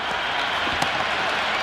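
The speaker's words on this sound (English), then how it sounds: "The crowd is electric right now." Stadium crowd at an under-19 cricket final roaring and applauding after a big six, a dense continuous wash of cheering heard at a distance.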